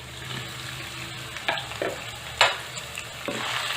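Diced potatoes stirred into hot ghee for sama (moraiya) khichdi, giving a steady low sizzle with a few louder scraping stirs and sharper frying bursts, close and alone.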